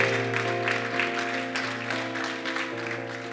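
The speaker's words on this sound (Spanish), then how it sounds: "Denle ese aplauso fuerte a Cristo, porque Él es bueno." Steady applause from a church congregation over a sustained organ-like musical drone, continuous for a few seconds.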